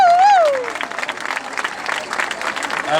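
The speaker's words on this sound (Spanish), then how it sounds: "Un fuerte aplauso para ellas" Applause from an audience at an end-of-school-year party in Gavà, a broad clapping wash that follows a brief rising and falling tone at the start and continues steadily for several seconds at moderate loudness.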